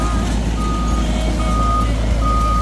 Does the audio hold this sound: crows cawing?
no